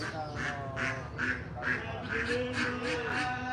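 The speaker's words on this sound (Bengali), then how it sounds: "হাঁস নিয়ে আসতেছে" Ducks quack in a steady series of repeated calls, fairly close, while people talk over them throughout.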